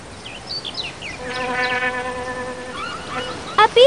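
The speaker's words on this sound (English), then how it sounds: "A bee." Steady insect buzz of a bee in the I SPY Treasure Hunt picnic game, a droning hum that swells in the middle of the clip amid soft chirpy cartoon sounds, ending with a couple of brief bright effects.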